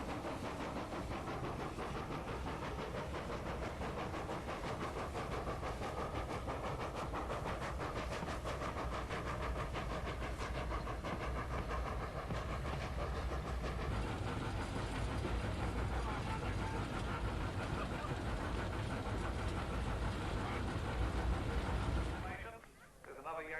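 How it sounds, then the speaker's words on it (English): Vintage steam train on the Glenbrook Vintage Railway, held to 35 km/h, rumbling steadily along the line in a dense, continuous roar that runs almost the whole way before dropping off abruptly near the end; voices can be heard faintly underneath. "The train is restricted to a maximum speed of 35 kilometres per hour and has several stops to make en route"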